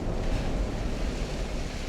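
Ocean waves in the Ultimate Admiral: Dreadnoughts naval video game surge as a continuous broadband wash with wind-like rushing, steady and fairly loud, no voices.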